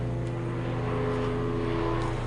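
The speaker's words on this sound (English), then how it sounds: "ooh, big helicopter." A steady, droning engine hum with low rotor throb fills the air, a helicopter passing fairly close overhead, loud and unbroken.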